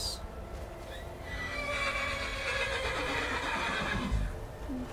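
A horse whinnies loudly in a long, wavering call in the video game Skyrim, with a low rumbling background and a faint tone near the start.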